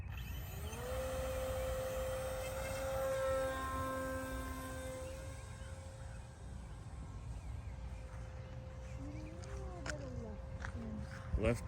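A 3D-printed RC airplane takes off and flies, its faint electric motor whine rising and falling in pitch over steady wind rumble, with some sweeping tones near the end.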